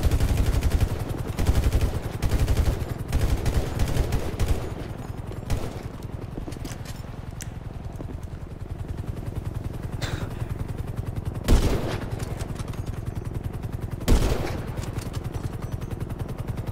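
Rapid helicopter gunfire in GTA Online, bursts of fast automatic shots over a constant low rotor drone, with a couple of louder impacts standing out later and no talk.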